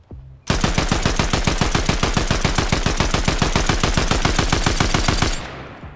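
Rapid automatic gunfire from a Fortnite match, fired at eggs during a golden egg hunt. The burst runs loud and unbroken for about five seconds, then cuts off and leaves a short fading tail.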